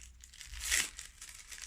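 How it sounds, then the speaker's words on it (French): Gift wrapping paper crinkles and tears in one short, sharp rip, loud and close against a quiet room. "je vais casser le papier, c'est pas la peine d'essayer de pas casser ce papier."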